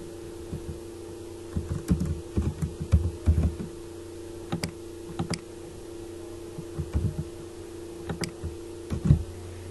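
Typing on a computer keyboard while working in MS Excel: irregular clusters of close, crisp key clicks over a steady background hum, with no talk.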